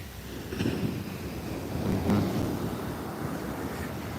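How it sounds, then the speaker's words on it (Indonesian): Large ocean waves crash and roar at Muaro Bayang beach in Pesisir Selatan during bad weather, a broad continuous surf rumble with wind buffeting the microphone and no talk. "karena memang ini ombaknya sangat besar"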